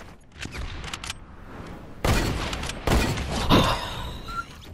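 Video game gunfire in a bush-covered battle map, with sharp bursts of shots around the middle and a few scattered single shots around them, moderately loud against background game noise.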